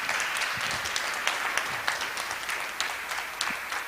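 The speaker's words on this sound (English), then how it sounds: "Please give him a very big round of applause." An audience at a Gita recitation contest gives a round of applause, a moderately quiet, steady patter of many hands with individual sharp claps standing out now and then.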